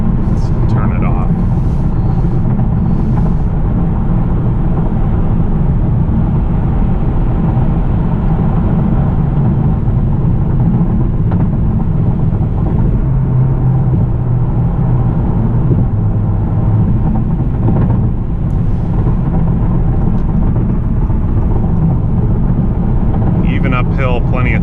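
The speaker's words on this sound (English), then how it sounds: "Uphill, plenty of torque in 6th gear." A 2018 Honda Accord Sport with a 2.0-liter turbo engine and six-speed manual climbs a hill in sixth gear, a steady low engine drone and road rumble filling the cabin throughout at constant loudness.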